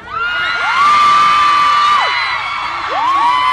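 A loud crowd screams and cheers continuously, with shrill sustained voices rising and falling close by.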